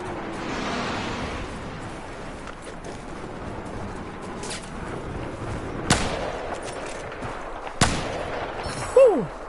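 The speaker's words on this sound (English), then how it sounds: "Getting shot at from this area." Gunfire in the video game Battlefield 4 cracks out as scattered distant shots over a noisy battlefield bed, with two sharper reports standing out, fairly faint overall and without speech.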